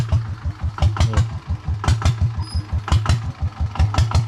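A small Yanmar single-cylinder engine fitted with an ET fuel tank runs close by. It makes a steady, rhythmic chugging with regular sharp knocks and no talk over it.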